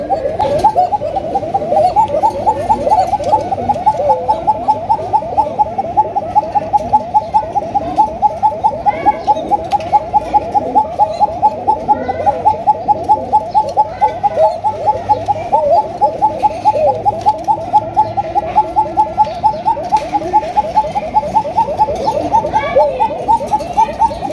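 Pigeons cooing close by in a steady, continuous chorus of repeated rolling coos lasting the whole stretch, with faint background noise and a little low talk at times.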